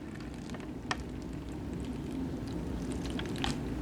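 Water poured into an MRE flameless ration heater pouch, a faint, steady liquid trickle with a few soft crinkles and taps, close and quiet over a low background hum.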